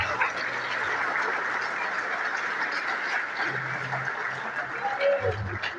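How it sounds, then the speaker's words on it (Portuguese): A church congregation claps in a soft, continuous patter at a distance, with a few brief murmurs and stray sounds mixed in. "Eu queria até uma salva de palmas por esse texto."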